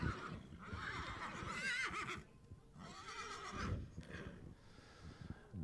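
A Friesian horse neighs at a breeding show, a loud whinny that rises and falls in two long bursts with a fainter third call at the end, heard close and without talk.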